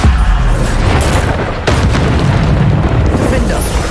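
A Bombarda spell blows up in the video game Hogwarts Legacy: a loud, booming blast that swells into a sustained, heavy rumble, with a sharper burst partway through.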